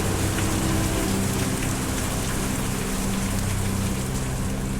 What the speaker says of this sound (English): Listen to the raindrop.